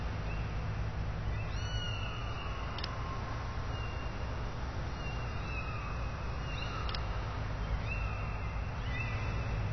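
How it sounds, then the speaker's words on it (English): Kittens meowing in the Sam & Max Save the World video game, a few soft high mews scattered over a steady low background hum, with no talk. "I thought you always wanted a kitten."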